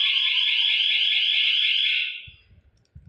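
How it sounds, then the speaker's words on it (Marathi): A home security alarm siren wails loudly up close with a warbling, police-car-like electronic tone, then cuts off and fades, leaving a few soft thumps and handling noises at the end. "असे सायरन वाजतात असे म्हणजे पोलिसाची गाडी आल्यासारखं सायरन वाजतात"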